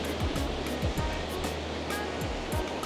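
Ocean waves at Double Six beach in Bali on a morning, a continuous rushing surf with a few low thumps, heard alone without talk.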